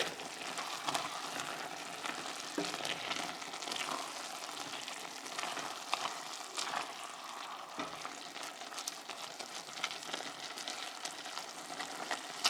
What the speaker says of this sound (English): It doesn't take very long for the spinach to cook.